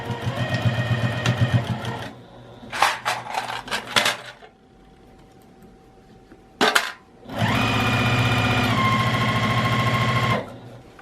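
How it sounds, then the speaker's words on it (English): Home sewing machine stitching around the hoop of a quilted patchwork tote bag, loud rapid motor bursts start and stop, then a long steady run near the end, with no talking. "we're basically going to sew all the way around the entire"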